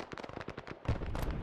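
A grenade blast in Arma 3 during a Vietnam-era firefight. A rapid burst of gunfire-like cracks is followed by a loud, heavy explosion with a dense rumbling tail, all over a short stretch with no talking.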